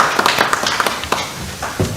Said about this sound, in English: A round of applause for you all.